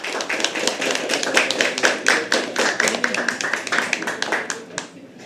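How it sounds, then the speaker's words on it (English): Audience clapping at a live poetry open mic, sharp individual hand claps rising and falling in uneven bursts, close and clear, tapering off toward the end. "Can we have a huge round of applause?"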